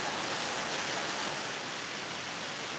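Rain falling outdoors near a road, a dense, steady broadband hiss throughout with no talk.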